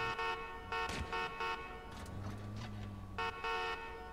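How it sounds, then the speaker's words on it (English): A car horn honks in the video game Watch Dogs 2, several short repeated toots in quick bursts over low engine hum, moderately close and fairly faint. "There, I'm honking."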